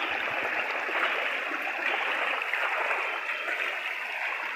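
Spring-fed water runs steadily in a small village stream near Bheloshi, a continuous close rushing and gurgling wash with no pauses or voices.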